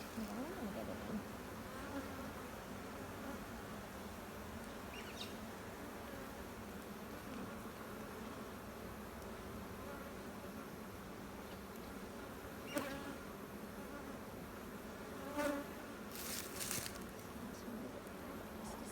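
Honey bees hum in a constant faint swarm around an open hive being split by a novice beekeeper, the buzzing steady and soft with a few brief knocks and rustles near the end.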